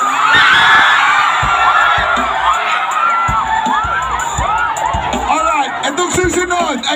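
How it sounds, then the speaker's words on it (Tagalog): A crowd of singles at a reggae concert in Cataingan shouts, screams and cheers, loud and close, with whoops rising over a constant babble of many voices. "Lahat yan ng single sumigaw!"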